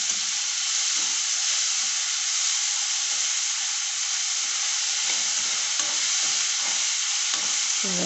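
Potato filling for masala dosa fries in a pan with a constant close hiss and sizzle, steady throughout with faint occasional stirring scrapes.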